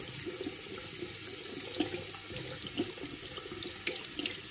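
Hands being washed under warm water from a home tap, a steady close stream splashing and gurgling into the sink, with small irregular splashes as the hands move through it.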